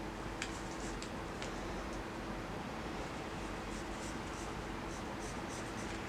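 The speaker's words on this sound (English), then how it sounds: "I would suggest drawing it with a tailor's chalk" Tailor's chalk drawn across fabric, giving soft, continuous scratchy strokes with faint ticking scrapes, close and quiet over a steady background hiss.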